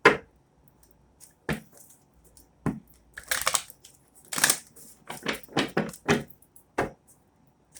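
Tarot cards shuffled by hand in a series of crisp, papery riffling bursts, some single and some in quick clusters, separated by brief silences, close and fairly loud with no talking.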